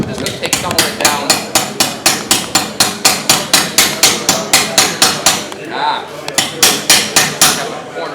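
A metalworking hammer strikes sheet metal while a hem is being shaped, a rapid run of loud, ringing, evenly spaced blows close by, a short pause, then more strikes.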